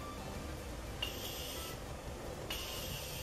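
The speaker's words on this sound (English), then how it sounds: "Another round of setting spray really quick." Two short hissing spritzes of a makeup setting spray bottle, about a second apart, soft and close against quiet room noise.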